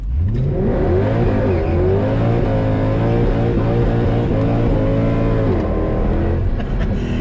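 A Mercedes W204 C63 AMG engine drones loud and close as the car drives and accelerates, its pitch rising and falling steadily through the whole stretch with no break.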